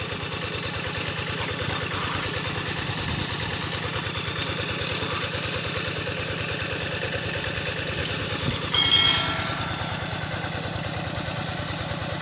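A walk-behind farm tractor engine drives a water pump while draining a fish pond, a steady loud chugging idle running continuously with a brief rise in tone partway through.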